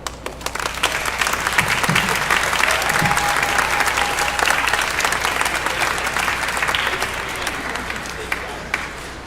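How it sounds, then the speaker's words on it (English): A concert audience of parents and families applauds after an orchestra performance, loud sustained clapping and crowd noise that holds steady throughout and fades slightly toward the end. "if you will please give a round of applause to your parents"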